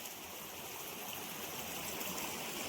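Water flows steadily through a field channel with boards diverting it, a soft, even rushing stream sound that stays faint and continuous with no talking.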